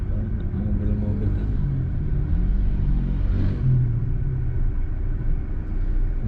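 Cars in traffic near a market in Batam make a steady low rumble of engines, loud and close, with a slight swell midway and no talk.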